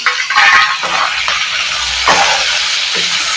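Pirandai (adamant creeper) sizzles in a pan with onion and tomato, a steady loud frying hiss with soft stirring scrapes throughout.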